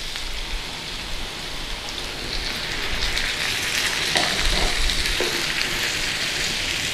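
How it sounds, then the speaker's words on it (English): Beef broth poured into sizzling corned beef hash in a pan, giving a dense, steady crackling hiss that swells louder partway through and carries on without speech. "Now this is where we add the beef broth."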